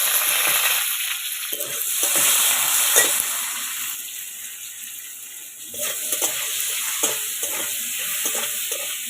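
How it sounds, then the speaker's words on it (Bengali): Potatoes frying in hot oil for a Bengali prawn and bitter gourd dish, a loud, steady close sizzle broken by scraping stirs and clatter throughout. "আলুগুলো ভেজে নেব"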